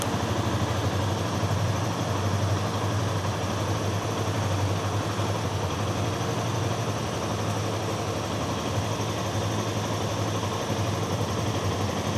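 A Kawasaki W250 motorcycle engine with a free-flow exhaust idles steadily close by, a constant low rumbling drone that holds at an even level throughout.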